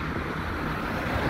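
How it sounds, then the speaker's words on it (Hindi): Ocean waves at Jumeirah Beach in Dubai, with boats moored nearby: a steady, loud wash of surf and wind noise that continues through the clip, with no talking. "ये जो है कि समंदर है, यहाँ पर जो है कि नाव भी खड़ी हैं"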